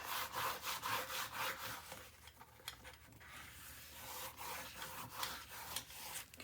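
Burnishing paper onto the edge of a mini album produces steady back-and-forth rubbing strokes, dry and scratchy, close and fairly quiet with no voices.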